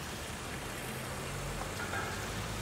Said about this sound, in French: là où on a bien une giboulée de grésil et de neige